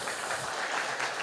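A church congregation claps briefly to welcome first-time visitors, a dense, moderately faint patter of applause with no talk over it.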